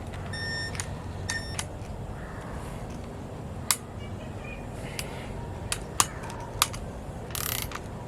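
A ratchet wrench with a 10 mm socket works on a Mercury 20 hp outboard motor during a water pump impeller replacement, producing bursts of quick clicking ratchet pawls and a few sharp metallic taps, close by, with no talking.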